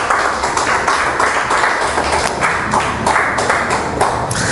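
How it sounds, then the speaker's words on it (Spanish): A church congregation applauding together during a Spanish-language sermon, a dense, steady patter of many hands clapping at once, fairly loud and continuous throughout. "Denle un aplauso al Señor Jesucristo."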